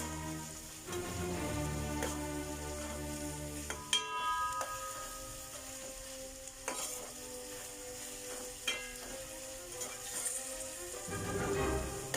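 Potatoes and prawns frying in a pan are stirred with a spoon, giving repeated scraping strokes over a soft, continuous sizzle, close and fairly quiet, with no talking.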